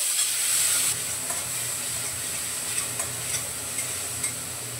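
Chopped onion sizzles steadily in a pan as the base for chana masala, with a constant hiss, a louder burst at the start and a few faint stirring clicks.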